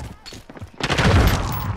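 Gunfire in Call of Duty Modern Warfare multiplayer bursts out as a dense, loud volley after a few scattered shots, with a voice talking over the start.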